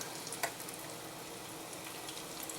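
Pork loin nuggets fry in a crowded pan of hot oil, giving a soft, steady sizzle with a few faint pops, quiet and continuous throughout.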